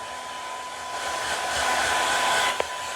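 A hair dryer set to warm blows on a dog, giving a steady, close whooshing roar that swells slightly and holds for the whole stretch, with one sharp click near the end and no talking.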